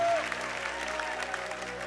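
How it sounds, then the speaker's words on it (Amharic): A church congregation claps together in worship, a fairly soft, continuous patter of many hands over a faint sustained tone and background murmur. "አጨብጭቡ ለጌታ ክብር ኢየሱስ ጌታ"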